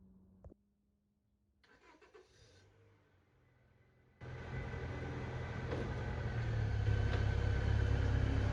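A Honda Accord's engine starts after a brief click and quiet pause, then settles into a steady, fairly loud idle or low rumble close by as the car is pulled in late at night, with no voices.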